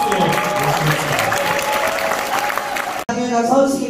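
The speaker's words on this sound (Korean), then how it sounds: "서은숙 위원장님을 힘찬 박수로 모시겠습니다." At a Busan Democratic Party talk concert, the audience claps vigorously for several seconds while music plays along. After a brief dropout, a voice begins speaking over the music.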